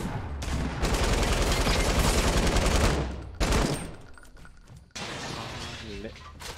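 Loud sustained bursts of rapid gunfire in the video game Fortnite rattle for a few seconds, then break off into single shots and a shorter, quieter volley.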